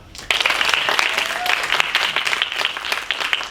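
Audience applause at a theatre performance, starting abruptly after a brief quiet moment and continuing as uneven, moderately loud clapping from a small crowd.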